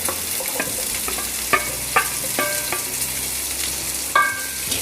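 Roughly chopped medium onion frying in a pan over low to medium flame for a paneer curry, a steady close sizzle with several sharp spoon scrapes against the pan.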